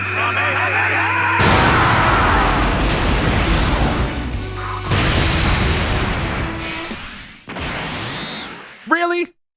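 An Ultra Big Bang Kamehameha blast explodes in a Dragon Ball video game, a loud, sustained roaring boom that surges in several waves before cutting off with a brief ringing zap.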